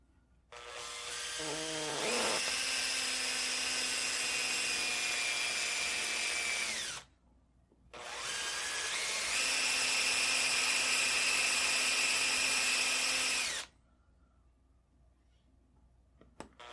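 A power drill bores two holes in a Kar 98 rifle stock, each a steady, loud whine of about five to six seconds. A short pause separates the two holes, and the clip ends in quiet with faint clicks.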